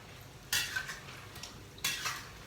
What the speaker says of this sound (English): So I am dishing out the first batch.